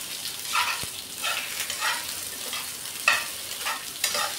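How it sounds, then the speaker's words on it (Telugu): Steamed rice-flour snacks being stirred into a hot tempering in a pan, a bright crackling sizzle that swells and fades in waves as they are tossed, with a single sharp click of a spoon. "వీటిని కూడా ఒక 2 నిమిషాల పాటు మనం ఈ పోపులో కలుపుకుంటూ వేయించుకోవాలి."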